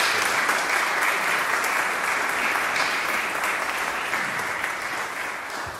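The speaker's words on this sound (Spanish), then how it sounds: "os pido un fuerte aplauso" Audience at an evening conference on Murcia procession music gives a strong round of applause, a loud, sustained wash of many hands clapping that eases off slightly near the end.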